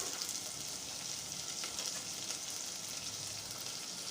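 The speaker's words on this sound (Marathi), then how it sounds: "यामध्ये आता आपण टाकूया एक शिमला मिरची बारीक कट केलेली आणि बारीक कट केलेला गाजर आहे" Finely chopped capsicum and carrot fry with onion and tomato in a pan, giving a steady, soft sizzle with light crackle that continues evenly and quietly without any speech.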